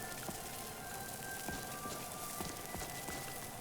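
Steady rain patters on a roof and surfaces in The Elder Scrolls Online, a soft continuous hiss with scattered drop ticks, heard from inside a cold, fireless building with no voices.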